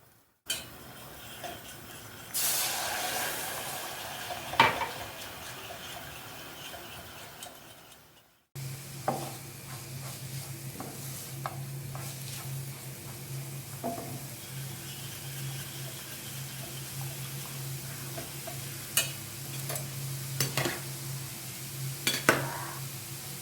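A spoon stirs homemade béchamel sauce into milk in a pot, making soft scraping and occasional clinks against the metal over a steady low hum, with a brief pause partway through.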